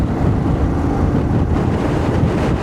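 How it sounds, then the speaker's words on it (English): Loud, constant wind buffeting the microphone with a deep rumbling roar and no speech. "It's so windy out here."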